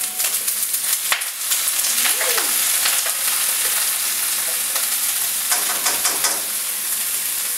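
Chopped vegetables for chicken teriyaki sizzle and fry steadily in a hot pan, with a few clinks and stirring scrapes as they are tossed around, loud and close with no talking.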